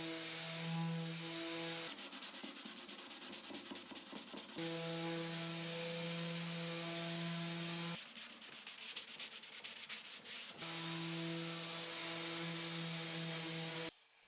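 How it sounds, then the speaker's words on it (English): A power sander whines with a steady tonal hum, broken by stretches of rough scratchy rubbing as it sands the wooden body of an antique chest of drawers; no talking. "Let's get some sanding done so we can stain the body"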